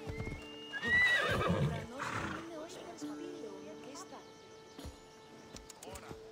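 A horse in Assassin's Creed Odyssey gives a loud whinny near the start, followed by lighter hoof clip-clops and game ambience, with someone talking over parts of it.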